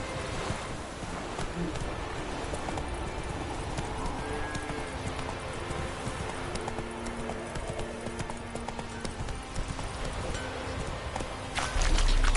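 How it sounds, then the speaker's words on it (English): Horse hooves clip-clop steadily in The Witcher 3, a continuous close hoofbeat rhythm over dense outdoor game ambience, with a faint neigh in the background. "Whoa there, Roach"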